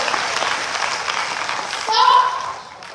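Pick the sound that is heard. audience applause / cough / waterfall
audience applause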